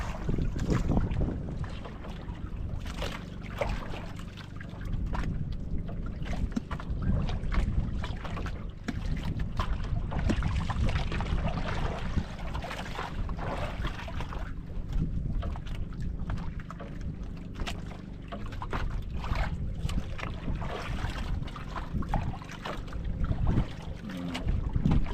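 Boat engine at sea approaching, a continuous low rumble mixed with heavy wind buffeting the microphone and water noise, steady and fairly loud throughout.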